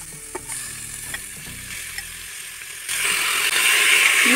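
Chicken pieces go into a hot pan of green masala with turmeric, bringing a steady sizzle and frying hiss that swells louder near the end, with scraping and stirring clicks over a faint background tone.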